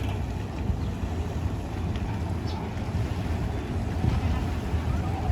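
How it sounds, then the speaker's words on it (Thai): A continuous low engine rumble and churning water from a passenger ferry boat, with wind buffeting the microphone steadily throughout. "นี่คือเรือข้ามฟาก"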